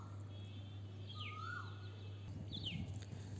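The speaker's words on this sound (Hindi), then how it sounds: "अगर आपको चिड़ियों की आवाज़ सुनाई देगी तो उसके लिए माफ़ कीजिएगा" A couple of short, faint bird chirps sound from a distance over a steady low electrical hum in a quiet indoor room.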